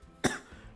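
One short, sharp cough bursts out close to the microphone, followed by quiet room sound.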